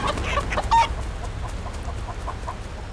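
Hens on a farm cluck in short, irregular bursts, faint and slightly distant over a low rumbling background.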